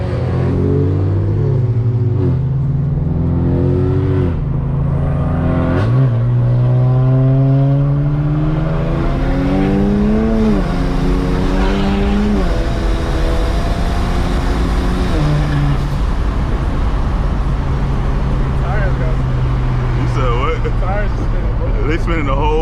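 Straight-piped BMW 335i with big turbos pulls hard through repeated gear runs, engine note climbing in rising sweeps with whistling turbo spool, loud from inside the cabin while people talk over it.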